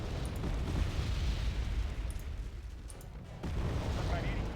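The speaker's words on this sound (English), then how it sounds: "Yeah, it's HE artillery." HE artillery shells landing in Wargame Red Dragon, a continuous low rumble of explosions with a fresh heavy blast near the end, heard at moderate distance.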